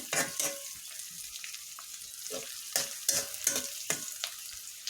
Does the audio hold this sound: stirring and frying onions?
yes